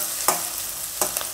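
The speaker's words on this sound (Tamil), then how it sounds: "சேர்த்துட்டு லேசாக வதக்கி விட்டுக்கலாம்." Onion and crushed garlic sautéing in a pan for Chettinad therakkal, giving a continuous sizzle broken by two sharp stirring scrapes.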